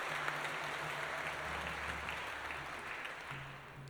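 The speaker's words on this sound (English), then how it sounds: "Everyone, give yourself a big round of applause." An audience at an Armed Forces Day 2019 music evening gives a steady, fairly faint round of applause with no talk, over a low electrical hum.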